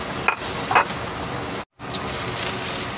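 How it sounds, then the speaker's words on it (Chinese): Onions stir-fried in a pan for dry-fried pork chop spaghetti give a steady close sizzle with faint stirring scrapes, broken by a brief total dropout midway. "咁我哋就摆咗啲洋葱落去就炒一炒佢先啦"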